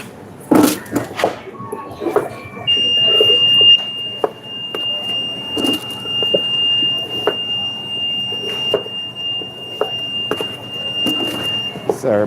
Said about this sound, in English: Sorry about the beeping in the background, ladies and gentlemen. I don't intend to destroy your earbuds. It's just my oven's like that.